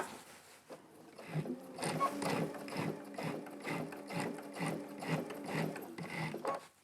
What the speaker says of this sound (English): I actually have to stitch on the pink printed fabric because I can see where my seam has been pressed to